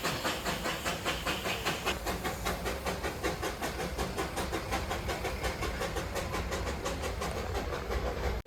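A train rolls past near a road in Kerala with a steady, dense clickety-clack of wheels over rail joints, loud and close, continuing without pause for the whole stretch.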